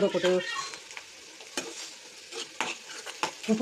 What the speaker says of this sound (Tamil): நல்லா வெங்காயம் வதக்கி எடுத்துக்கோங்க